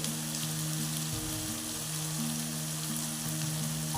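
Vegetables with salt frying for upma in a pan, a steady close crackling sizzle that runs unbroken, with a faint low hum beneath and no voices.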